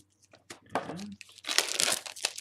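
Magic the Gathering booster pack packaging crumpled and crinkled by hand, a burst of crackling and tearing that builds to a louder, dense crunch near the end, close up with no talk.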